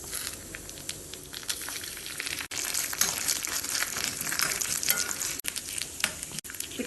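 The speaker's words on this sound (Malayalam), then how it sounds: "തേങ്ങ ചിരകിയത് തൊട്ട് വറുത്തെടുക്കാം." Grated coconut roasting in hot coconut oil with mustard seeds, dried red chillies and curry leaves in a pan: steady close sizzling and crackling with occasional stirring scrapes.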